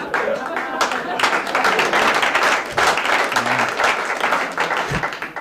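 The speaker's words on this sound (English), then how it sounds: "Thank you for applauding my private hell." A comedy club audience claps and cheers steadily for a stand-up comedian after a joke, a dense, close burst of applause filling the whole moment.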